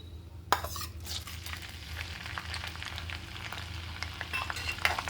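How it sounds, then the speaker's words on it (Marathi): Green chillies sauté in a pan for sabudana khichdi, giving a steady close sizzle with stirring scrapes and light clinks of a spoon against the pan. "छानपैकी परतून घेऊया"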